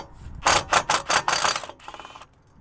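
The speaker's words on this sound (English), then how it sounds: "We're going to be using just a regular 6mm socket." A ratchet fitted with a 6mm socket loosens a rear brake rotor bolt on a BMW X5 E53, giving a quick series of five or six loud, close clicking bursts followed by a softer rattle.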